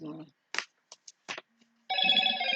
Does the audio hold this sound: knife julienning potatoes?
no